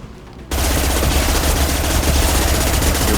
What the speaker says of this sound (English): Still miss a lot because I am using an SMG, which is not very accurate, but I prefer the fire rate over the accuracy.